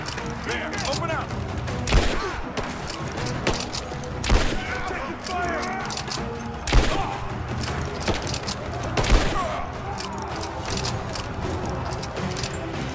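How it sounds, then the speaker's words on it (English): Heavy gunfire in the Rise of the Tomb Raider video game, with a single-shot elephant-style gun firing booming shots at intervals of a few seconds amid a dense, noisy battle with other firing and a voice underneath. "This gun doesn't have a magazine. So she has to put a round in each time she reloads. It's like an elephant gun."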